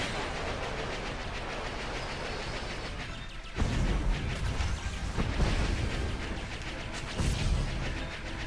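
Space combat in Star Wars: The Old Republic, with blaster fire and explosions rumbling over a constant engine roar, loud booming bursts landing at irregular intervals.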